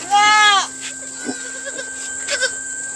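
A two-day-old goat kid gives one loud, close, wavering bleat, followed by quieter shuffling and faint background sounds.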